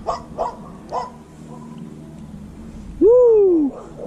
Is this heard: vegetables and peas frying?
no